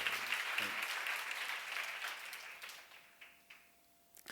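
A congregation at a Bible lecture on Isaiah claps together, a bright burst of applause that gradually thins and fades out over a few seconds into near quiet.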